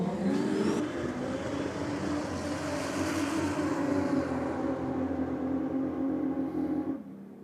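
A drag race car at a roll drags event screams past at high speed, loud and steady with a rising whine. It is close to the listener before cutting off sharply near the end, with no voices.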